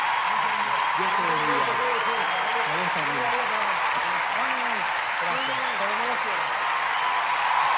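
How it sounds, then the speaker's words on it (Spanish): A large concert crowd at a show in Vélez applauds in a sustained, dense wash of clapping, with someone talking loudly over it throughout. "El aplauso para Emma Novil."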